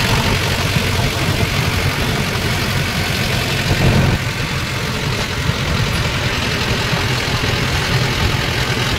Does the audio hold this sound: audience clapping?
no